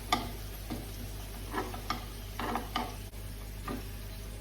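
Homemade oven chips, roasted about eight minutes at high temperature, being turned over on a hot tray with a spatula: soft repeated scrapes and clicks over a faint sizzle and a steady low hum.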